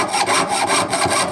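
A hand fretsaw cuts through a thin wooden plate in quick, even back-and-forth strokes, about six rasping passes in under two seconds, close up and alone.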